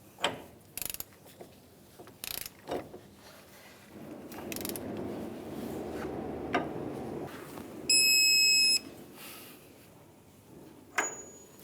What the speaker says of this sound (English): we're going to torque our axle nut to 181 foot-pounds.